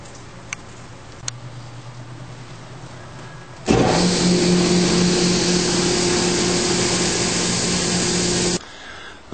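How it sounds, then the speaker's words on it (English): A media blaster starts up and blasts small-block Chevy cylinder heads with fine stainless steel media, a loud, steady hissing roar with a low hum under it, running for several seconds before it shuts off. "I've moved the heads over to the media blaster"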